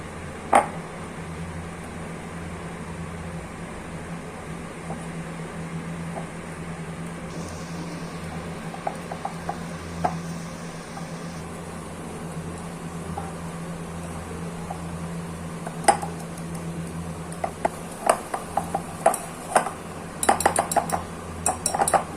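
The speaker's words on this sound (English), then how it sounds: "we need to beat or whisk the mixture till soft and airy" Red velvet cake batter being whisked in a bowl, heard as sparse, light clinks of a whisk against the bowl that grow quicker and more frequent toward the end, over a steady low background hum.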